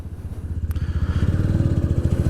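A motorcycle engine rumbling close by, its pulsing throb rising steadily as throttle is applied during a basic rider training session on a beach.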